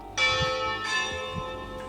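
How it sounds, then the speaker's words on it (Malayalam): Church bells ring at Fatima, Portugal, marking eight o'clock with two clear, resonant strikes that hang and fade in the open air. "അവിടെ നിന്ന് മണി അടിക്കുന്ന സൗണ്ടാണ് കേൾക്കുന്നത്"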